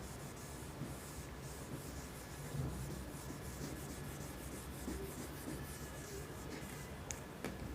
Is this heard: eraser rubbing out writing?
yes